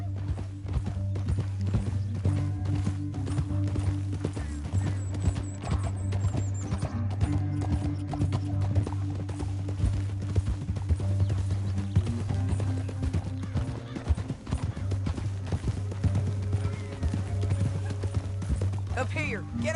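Horse hooves clip-clop rhythmically at a steady gallop in Red Dead Redemption 2, continuous throughout over a low rumbling score, with occasional voices speaking.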